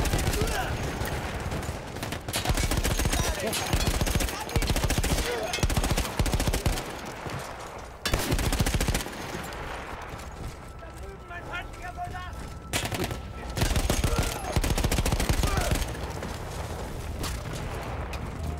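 Rapid gunfire in the video game Battlefield 1, bursts of automatic shots and heavy blasts cracking repeatedly with short pauses between volleys, fairly loud and close.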